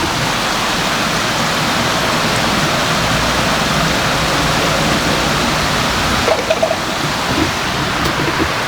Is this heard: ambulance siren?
no